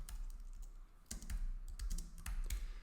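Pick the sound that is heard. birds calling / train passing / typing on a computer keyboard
typing on a computer keyboard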